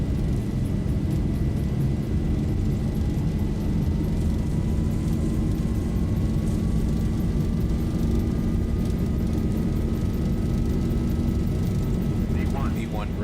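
A Boeing 737 in a flight simulator game thunders through its takeoff roll, a steady, loud engine roar with a rising whine that runs throughout, while a voice calls out under it.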